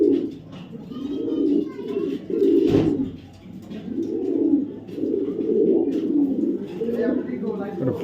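Male racer pigeons coo in deep, rolling bursts that repeat every second or two, close and fairly loud, while a person talks over them.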